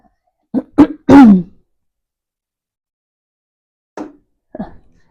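A few short, harsh throat-clearing bursts close up, then silence, followed by two softer brief rasps near the end.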